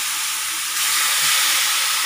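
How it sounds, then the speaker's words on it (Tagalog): Pork frying in its own rendered fat, giving a steady, close sizzling hiss that swells slightly partway through, with no voices. "pipritohin natin yung ating baboy sa sarili niyang mantika"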